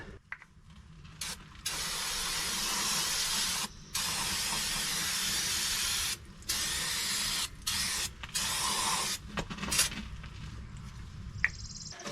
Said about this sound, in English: Spray some junk and clean this up.